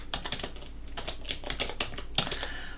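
Quick, irregular clicking keystrokes on a computer keyboard while typing commands, close and clear with no talking.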